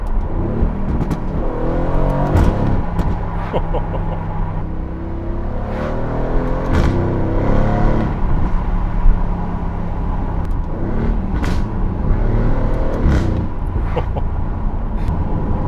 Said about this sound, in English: You just can't help yourself playing with the gears and just listening to that incredible V8 do its thing